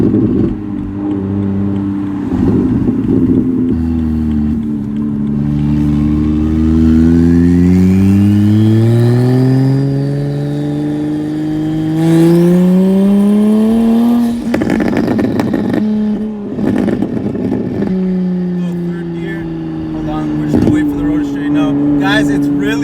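Single-turbo BMW 335i pulling hard on a slippery Canadian winter test drive, engine pitch climbing through long rising sweeps as it accelerates, with shift breaks and a turbo whistle, loud and close.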